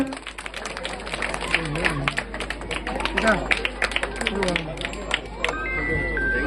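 An audience at a Ganesh festival program claps in dense, scattered applause, loud and sustained, with a voice talking over it.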